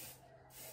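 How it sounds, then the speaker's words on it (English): Hair spray is sprayed onto the top of the head in one short, soft hiss, close but quiet. "I'm gonna just spray the top of my head, make sure I keep the flyaways from like going anywhere."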